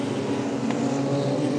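Wingless sprint cars roar down the back straightaway at Archerfield Speedway, a dense, loud engine drone from several cars that holds steady through a brief burst.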